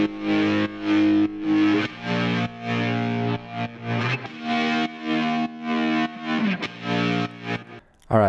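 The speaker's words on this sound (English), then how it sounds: "I also recorded some guitars for the song with just my electric guitar into my audio interface straight in" Distorted electric guitar recorded straight into an audio interface and run through Guitar Rig effects, playing loud sustained chords in steady rhythmic bursts with brief gaps, thick with chorus-like modulation, alone with no voices.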